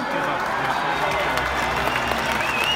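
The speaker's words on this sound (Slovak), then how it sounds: "Poprosím veľký potlesk pre Maroša Kramára a Jana Greša" A large crowd at an outdoor protest gives sustained, dense applause with some cheering, loud and steady throughout the short stretch.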